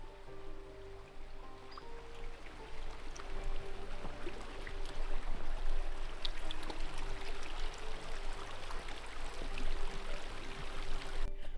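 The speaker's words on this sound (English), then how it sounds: "We get to end it with this little walk over a bridge and this beautiful babbling brook." A babbling brook flows beneath a small footbridge on a state park trail, a continuous close wash of trickling, splashing water that swells slightly midway, with no talking.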